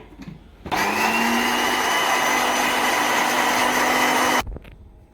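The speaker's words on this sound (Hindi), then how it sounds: "अब हम इन दोनों चीज़ों को अच्छे से ब्लेंड कर लेते हैं" A kitchen blender whirs steadily, blending schezwan sauce ingredients with added water; it starts abruptly, holds a loud, even motor whine for nearly four seconds, then cuts off.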